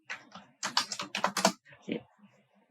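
Someone types a ChatGPT prompt on a computer keyboard in short, close, crisp bursts of clicks, followed by a brief low voice-like sound and then quiet.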